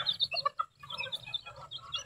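Chickens, including newly bought large guardian birds with a mother hen, cluck and chirp nearby in short repeated bursts, fairly clear and with no talk over them.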